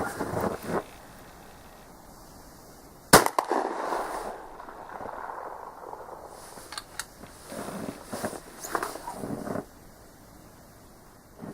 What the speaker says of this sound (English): I'll just do another shot just to see where we're at 50 meters